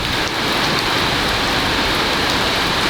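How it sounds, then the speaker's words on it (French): Heavy rain pours down steadily at a gas station during a severe storm in the United States, a dense, loud, continuous hiss of water striking surfaces with no pauses, no voices and no other distinct sounds rising above it. "on s'est laissé avoir par la pluie"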